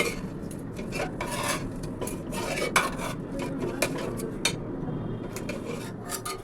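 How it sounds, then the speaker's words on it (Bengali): Boiled chana dal being mashed against the side of a pot with a ladle, repeated close metallic scraping and clinking in an uneven rhythm, with a few sharper knocks. "আমি একটু হাতা দিয়ে সাইড থেকে একটু গলিয়ে নেব"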